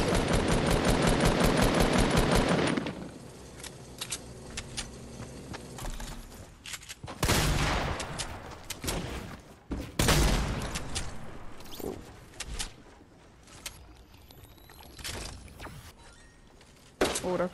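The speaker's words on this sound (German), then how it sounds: "Und dabei kann man auch schießen." Bursts of gunfire in the video game Fortnite, a loud rapid volley at the start followed by scattered shots and impacts over continuing game sounds and music.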